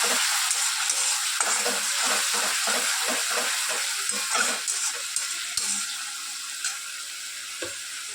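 Onion, garlic and green chillies fry in hot oil in a home kitchen, a steady close sizzle broken by repeated scraping stir strokes, with no voices.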